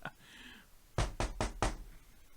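Knocking on a door, four loud evenly spaced knocks close by, following a brief vocal sound.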